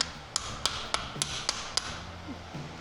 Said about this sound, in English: Now we're gonna tap these bushings in.